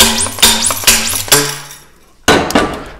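A driver tool is hammered against the seal and bushing of a WP AER motorcycle fork, giving four sharp metallic knocks with ringing, pinging tails, then a pause and a final louder clanking strike.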